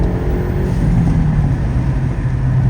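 Hyundai Elantra N with a stage 2 tune accelerating hard through the gears, a loud, steady engine roar and exhaust drone held close and continuous with no talk.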